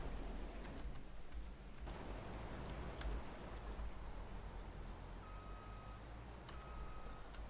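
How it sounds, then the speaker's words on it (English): Rain falls in the video game Farming Simulator 22 as a faint, steady hiss that continues throughout, with a few brief electronic beeps near the end. "it's starting to rain."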